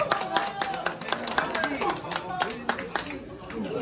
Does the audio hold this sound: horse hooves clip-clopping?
no